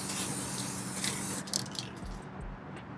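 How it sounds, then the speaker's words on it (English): Aerosol scanning spray hisses as it is sprayed deep into a dark car engine bay, a steady broadband spray for about a second and a half, then fading to quieter short bursts. "use some AESub spray deep down in there"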